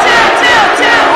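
Graduating high school seniors at a La Grande High School graduation shout their class cheer together, a loud, sustained crowd yell filling the space.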